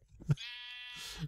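A Minecraft sheep gives a short, close bleat after a brief thump, a single wavering cry lasting under a second.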